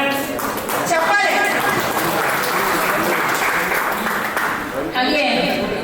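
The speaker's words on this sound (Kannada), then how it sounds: "ಚಪ್ಪಾಳೆ." Steady applause from an audience at a Kannada storytelling convention greets a reader coming to the stage, a dense continuous clatter of many hands lasting throughout, briefly dipping near the end before swelling again.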